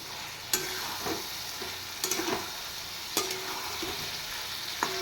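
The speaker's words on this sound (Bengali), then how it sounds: "এবার মশলার সাথে এগুলো আর একটু ফ্রাই করে নেব।" Fried potatoes and mushrooms hiss and sizzle in a pan with spices while a spatula stirs and scrapes, with sharp clacks recurring every second or so over a constant loud frying hiss, close up and without talk.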